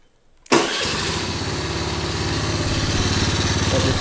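A Honda Navi motorcycle engine fires up abruptly after a moment of quiet, then settles into a loud, steady, close idle with a fast regular putter.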